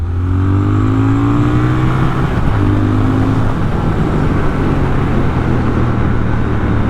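Loud, continuous engine drone of a Triumph Speed Twin 1200 motorcycle accelerating along a dual carriageway, rising in pitch through the gears with heavy wind rush throughout.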